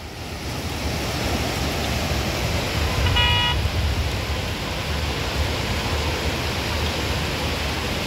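A Ford car pushes through a flooded street in Jeddah during heavy rain, its steady loud wash of churning water and surf-like splashing filling the scene with a low engine rumble beneath.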